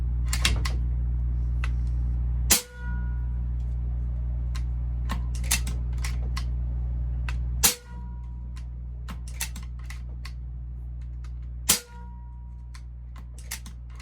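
Air rifle tuned for slugs and pellets, fired over a chronograph at 25 MPa: three sharp, loud shots spaced about five seconds apart over a steady low hum, with lighter clicks and ticks of handling between them.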